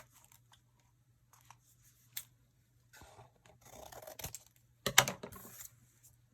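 Scissors cut through paper while binding a Dollar Tree junk journal, a few quiet, crisp snips and rustles near the end after sparse soft taps, close and without talk.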